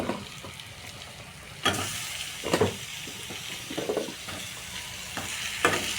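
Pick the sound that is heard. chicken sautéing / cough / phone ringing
chicken sautéing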